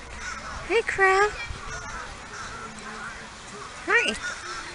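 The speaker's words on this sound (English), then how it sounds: "I'm filming the nice little crow." A crow outdoors gives two separate harsh, rasping caws, loud and fairly close, with a quieter murmur of background voices between the calls.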